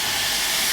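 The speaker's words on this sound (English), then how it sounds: "you should get that nice sizzle." A steak sizzles as it lands on the hot plate of a Ninja Foodi Smart Health Grill XL, a short, loud, bright hiss with no voices.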